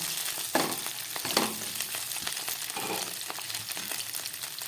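Cauliflower florets frying in a pan give a dense, close crackling sizzle, with a few sharper stirring clatters early on and no voices.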